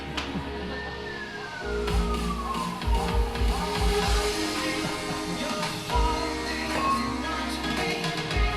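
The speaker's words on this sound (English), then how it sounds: "that siren works perfectly with this" A siren wails with a falling tone under steady traffic noise and low rumbling, moderately loud and continuous, with no talking.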